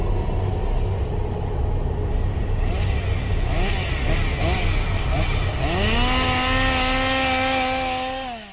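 A haunted-attraction performer's chainsaw at Haunted Overload in Lee, New Hampshire, loud and close, idling roughly then revving up with a rising whine that holds high before cutting off near the end.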